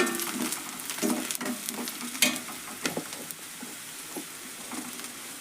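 Onions fry with turmeric powder for a festival palya, giving a constant close sizzle broken by irregular stirring scrapes and spoon taps against the pan.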